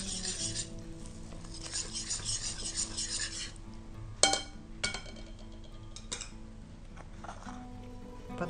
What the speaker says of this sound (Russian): Вымешиваем.